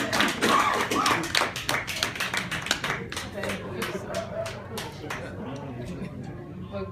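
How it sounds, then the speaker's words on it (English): An audience at a motivational speaking event applauds, a burst of dense clapping that thins out into scattered, slower claps as it fades, with voices murmuring underneath. "Give her a round of applause."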